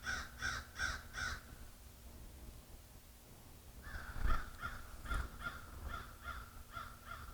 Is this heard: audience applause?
no